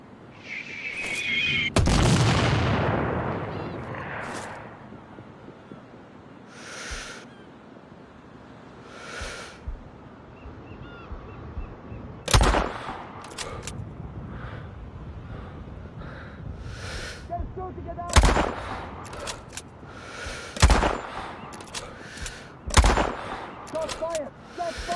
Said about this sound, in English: Heard gunshot.